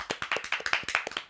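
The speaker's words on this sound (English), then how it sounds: "All right, I'll applaud that." One person clapping hands in a quick, steady rhythm, about a dozen sharp close claps with no talk over them.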